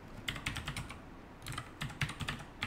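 Quick close keystrokes on a computer keyboard while a file name is entered, two short bursts of clicks separated by a brief pause, no voice present.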